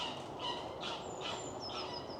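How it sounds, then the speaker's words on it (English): Bean geese calling through trees outdoors, a series of honking and gobbling cries at a moderate distance, repeated several times over steady background noise. "I didn't know bean geese flew up through the trees like that."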